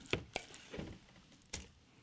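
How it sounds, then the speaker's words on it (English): Oatmeal goes into an RV black holding tank with a few scattered soft squishy thuds and splats, fairly quiet and close, with no talking. "a little more oatmeal that goes in"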